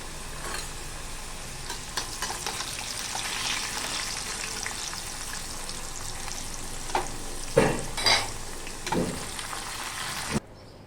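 Pieces of taro fry in hot oil in a pan with a loud, continuous close-up sizzle. Several sharper bursts of spattering and stirring come late, then the sound cuts off abruptly.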